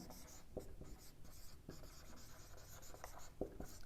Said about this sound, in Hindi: यहां पर लिखता हूं मैं